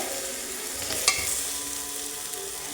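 Masala paste roasting in a pan for a white chickpea curry, giving a constant bright hiss of frying with one sharp scrape of the spoon partway through, near and unaccompanied by speech.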